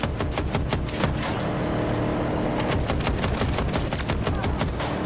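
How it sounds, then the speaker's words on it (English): Automatic gunfire in Battlefield 2042 Conquest, rapid bursts of shots in two clusters separated by a brief lull, loud and close over a constant rumble of game noise. "I shot him like four times?"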